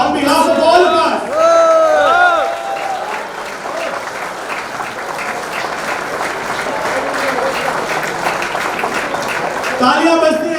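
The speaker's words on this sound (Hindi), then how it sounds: "तालियां बजती रहनी चाहिए" A crowd applauds steadily for Miss India 2020 runner-up Manya Singh at a celebration, sustained loud clapping with cheers and a voice speaking over the start and end.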